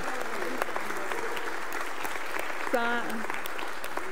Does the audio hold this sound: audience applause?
yes